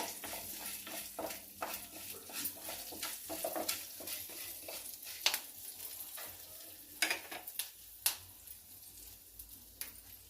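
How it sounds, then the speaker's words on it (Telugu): Curry leaves frying in a pan with a little chana dal, a soft steady sizzle under intermittent stirring scrapes and a few sharper spoon taps near the end. "కొంచెము కరివేపాకండి. వేపుకోవాలి, దోరగా వేపుకోవాలి."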